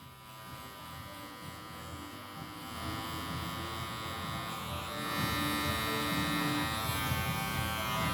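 Electric hair clippers buzz steadily while cutting a flat top haircut, a close, continuous motor hum that grows slightly louder partway through.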